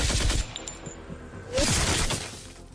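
An autocannon sound effect in a science-fiction tabletop roleplaying session: a short rattling burst, a brief lull, then a second louder crashing volley that fades out.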